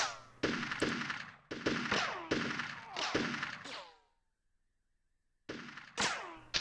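Bursts of enemy gunfire in Army Men: Sarge's Heroes, several loud automatic volleys in quick succession, a silent gap, then more firing resuming.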